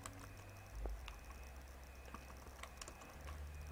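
A date tapped out on a computer keyboard in a quiet room, a few faint, sparse key clicks at an uneven pace over low background hum.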